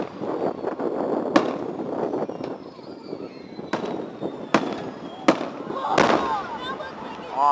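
Fourth of July fireworks go off in repeated sharp bangs spread irregularly over several seconds, with whistles and crackling between them and a crowd murmuring underneath.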